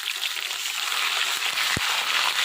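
Chicken mince sizzles and fries steadily in a hot wok while being stirred, a dense continuous crackle with a couple of soft scraping knocks from the spatula, no voices.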